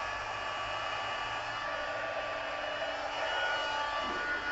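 A heat tool for card making blows hot air in a steady, loud, close whooshing hiss that runs without a break and has no talking over it.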